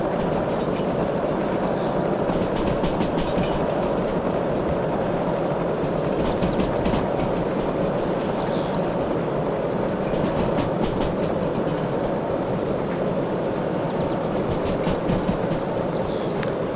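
A steam train in the game Derail Valley runs on rails near a steel mill, a loud continuous rumble with rhythmic clickety-clack wheel beats and bursts of rapid clicks.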